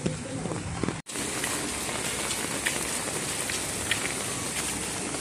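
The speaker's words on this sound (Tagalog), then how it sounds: "Meron ng baha. Kunti pa lang, mahina pa yung ulan na yan." Light rain patters steadily on surfaces, a dense even hiss close around with occasional louder drops, broken by one brief cut after the first second.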